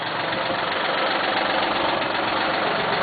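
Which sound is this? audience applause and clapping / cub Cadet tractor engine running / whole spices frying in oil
cub Cadet tractor engine running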